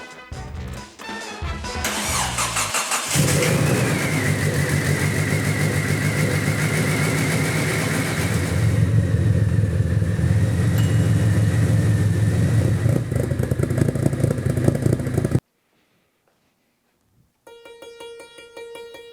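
A car engine with a faulty, freshly reinstalled ECU cranks after a few clicks, then idles loudly and steadily for about twelve seconds before cutting off; a quieter electronic tone follows.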